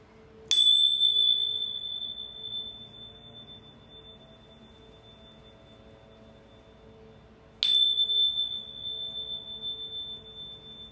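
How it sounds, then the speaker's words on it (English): Two bright, ringing bell strikes sound close and clear several seconds apart, and each one leaves a long, sustained shimmering tone that slowly fades. "I'm going to ring the bells 3 times and say a quick prayer"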